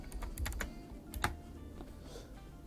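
Computer keyboard typing while renaming a material in Blender 3D, a quick burst of close, crisp keystrokes in uneven rhythm, heard alone without talk.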